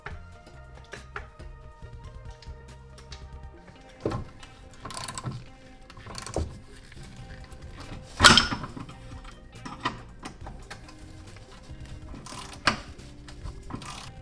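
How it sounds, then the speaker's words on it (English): Ratchet wrench working bolts off a car's rear differential carrier under an Audi B5 S4, intermittent clicking turns and metallic clanks at close range with pauses between. "remove these two bolts, and then go ahead and remove the three bolts here that are holding the diff onto the carrier."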